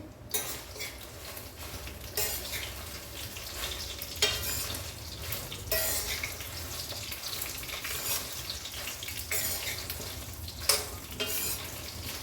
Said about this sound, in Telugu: ఇవి వేయించేటప్పుడు స్టవ్ సిమ్లో పెట్టి వేయించుకోవాలి